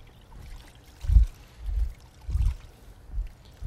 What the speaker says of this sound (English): dip it in the water